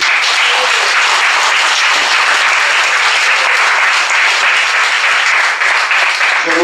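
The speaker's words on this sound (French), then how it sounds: "Je voudrais que vous l'applaudissiez." Loud, sustained applause from an audience at a public meeting on Marie-Galante, many hands clapping in a continuous, even roar with no speech over it.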